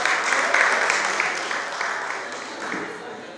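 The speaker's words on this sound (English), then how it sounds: "Can we please give Adonai a round of applause?" Crowd at a Yoruba Day community event in Melbourne applauds a local food business, a broad wash of clapping that slowly fades, with voices mixed in underneath.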